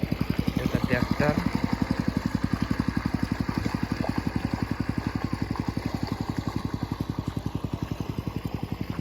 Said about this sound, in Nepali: यता ट्र्याक्टर